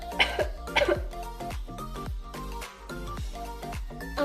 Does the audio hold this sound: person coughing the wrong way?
yes